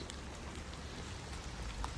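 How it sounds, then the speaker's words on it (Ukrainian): Steady rain falls outdoors, heard from a kitchen as a soft continuous patter with occasional brighter drips, with no talking. "Бачите, дощ іде, іде, іде."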